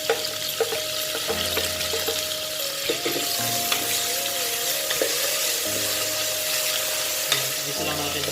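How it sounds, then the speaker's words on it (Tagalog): Tomatoes sauté in a pan with a steady crackling sizzle, broken by clicks and scrapes of stirring and a running-water hiss in the background, with no speech. "Gisa lang natin mabuti ang kamatis."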